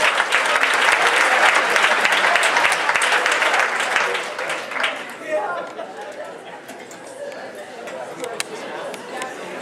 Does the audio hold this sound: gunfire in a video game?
no